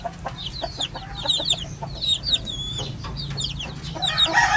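Free-roaming hens cluck in quick, chirpy bursts while a rooster joins in, close by and fairly loud over a low rumbling outdoor background.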